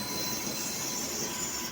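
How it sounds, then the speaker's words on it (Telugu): Train with milk tanker wagons rolling slowly through a railway junction, a steady rumbling roll with faint wheel squeal and metallic ringing, continuous and moderately distant. "ఇప్పుడు మన ముందుకు కాజీపేట రైల్వే జంక్షన్లోకి ఒక సూపర్ ఫాస్ట్ ట్రైన్ వస్తుంది"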